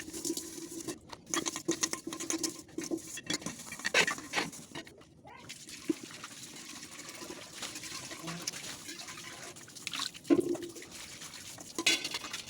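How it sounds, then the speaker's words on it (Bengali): Dishes, pots and pans are washed by hand, with irregular clinks, clatters and water splashes close by, some knocks sharper than others, and no talking. "রান্না করতে করতে তার মনে হয়েছে যে অনেকগুলো বাসন রয়েছে, ধুয়ে নিলাম।"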